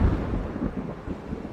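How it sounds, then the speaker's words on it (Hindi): Distant thunder rolling in a low, continuous rumble during a storm, heard briefly on its own with a faint wash of wind or rain. "बादल भी गरज रहे।"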